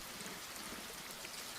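Soft, steady rain falls at night outside a room, a constant even hiss with no distinct drops or thunder, calm and unbroken throughout.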